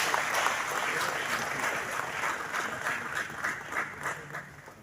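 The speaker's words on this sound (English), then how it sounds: "A big round of applause for her." Sustained applause from a large crowd at a youth summit in an arena, a dense, steady wash of clapping heard from the hall, fairly loud and continuous throughout.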